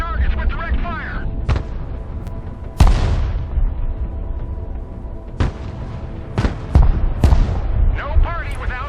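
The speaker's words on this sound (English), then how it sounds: "Mobile artillery ready. Send mission. Engaging targets with direct fire." Direct fire from mobile artillery in the military strategy game Broken Arrow: several sharp, loud booms spaced irregularly across the span, each with a decaying tail, mixed with radio-style voice chatter.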